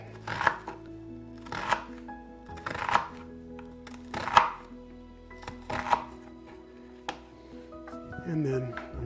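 A knife cuts through an onion on a cutting board in about six spaced, crisp chops, each a short crunch and thud, over quiet background music.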